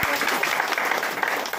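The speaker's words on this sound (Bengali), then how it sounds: "আপনাদের জন্য একবার জোরদার তালিয়া" Audience applause at a public speech event in Farakka, a dense, steady clapping that fills the whole moment at close range, with some voices mixed in.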